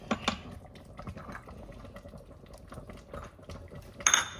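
Beef nilaga with vegetables simmering in an Instant Pot gives a soft, steady bubbling that stays faint and even throughout, with a brief sharper clink or splash near the end.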